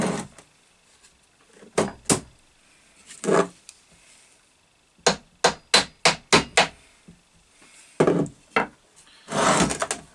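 An induction motor end cap is tapped into place with a string of sharp, woody knocks, some single and some in quick clusters of four or five, separated by short quiet gaps and a few duller shuffling sounds.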